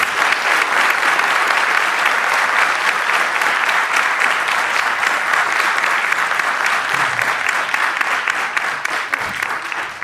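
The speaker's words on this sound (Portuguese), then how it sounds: "Eu quero, inclusive, pedir a todos uma salva de palmas para essas pessoas" Sustained applause fills a hall at a political event of the MBL, a thick, loud, steady wash of many hands clapping for the whole stretch with no talk over it.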